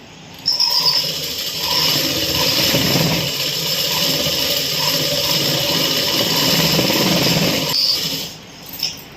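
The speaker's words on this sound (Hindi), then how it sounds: "अब मैं इस पर पट सिलाई लगाती हूँ।" Sewing machine stitching pajama fabric, a loud, close, continuous motor whir lasting several seconds before slowing to a stop, with no talk over it.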